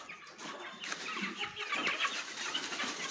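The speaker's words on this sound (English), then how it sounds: "Chickens everywhere!" Several New York Giant chickens cluck and squawk in overlapping bursts, fairly faint, with busy rustling in the background.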